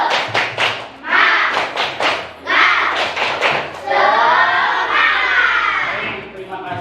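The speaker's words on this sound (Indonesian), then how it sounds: "semuanya tepuk semangat." Classroom group doing a rhythmic Indonesian spirit clap in unison, sharp claps in quick patterned bursts with thumping, then excited children's voices shouting and chattering over the end.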